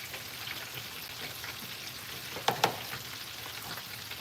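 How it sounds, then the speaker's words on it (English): Fish fries in a pan with a soft, steady sizzle, faint and close, broken by two quick sharp pops or clinks partway through. "I'm over here like craving fish, so I decided to fry up some."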